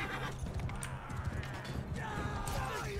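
Rapid clip-clopping hoofbeats of a horse in Mount & Blade 2: Bannerlord run continuously over a busy background of game sounds and music.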